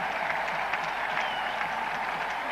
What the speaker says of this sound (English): it's given the West Indian supporters in the crowd there something to shout about